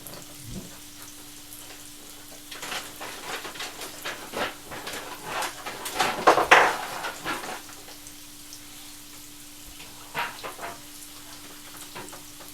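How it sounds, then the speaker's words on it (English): Potato pieces pan frying over medium heat give off a soft, continuous sizzle with scattered crackles, swelling into a louder burst of spattering midway before settling back to a gentle fry. "So you just want to fry your potato like this on a medium sized heat."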